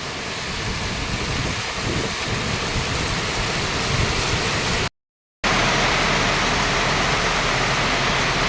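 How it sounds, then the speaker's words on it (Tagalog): Gusty rain from Typhoon Carina drives down in a dense, loud wash, surging and easing in bursts, with a brief dropout midway before the downpour returns even stronger. "patuloy pa rin na ang ulan ay pabugso-bugso"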